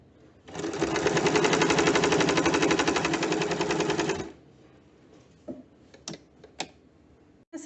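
Sewing machine stitching a folded double strip onto a sleeve hem: one loud, steady burst of rapid stitching lasting about four seconds, then faint clicks and handling of the fabric.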